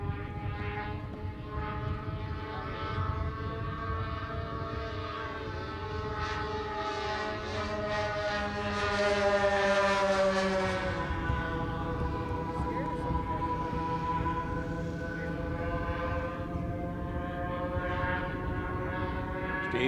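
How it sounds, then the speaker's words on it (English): A radio-controlled scale Boeing 747 flies past with several engines whining in high, sustained tones that rise and shift as it approaches and moves away, heard from a distance outdoors. "You can hear the engines singing as they come back around."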